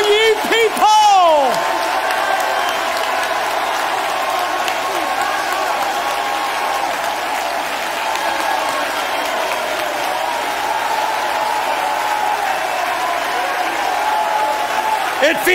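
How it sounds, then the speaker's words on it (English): Sustained, dense applause from a whole congregation clapping together at a Pentecostal camp meeting, with a loud preaching voice at the start and scattered whoops over the steady roar of hands. "Clap your hands, all ye people!"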